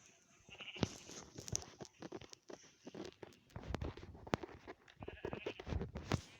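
Goat bleating in Minecraft survival play, with several short, wavering bleats spread across the stretch, mixed with soft patter of footsteps and small game noises at moderate loudness.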